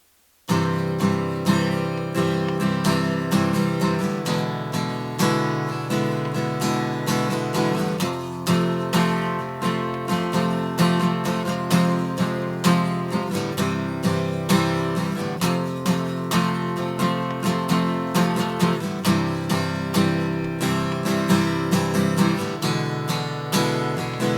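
An acoustic-style guitar strums a song's chord progression in steady rhythmic strokes, the pattern cycling twice through the same changes, bright and close with no talking.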